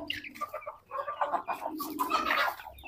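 A hen with her chicks clucks steadily while feeding, with soft overlapping chick peeps and nearby fowl sounds, close and continuous over a low background hum, with no talking.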